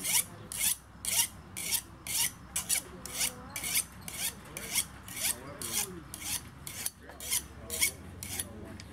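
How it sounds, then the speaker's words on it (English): A metal file rasps in steady, rhythmic strokes along the edge of a shovel, roughly two strokes per second, close and crisp with no talking. "And unlike on a shovel, you just sharpen the top side."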